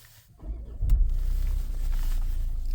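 An Ingenium car engine cranks and catches, then settles into a steady, low idle rumble close by.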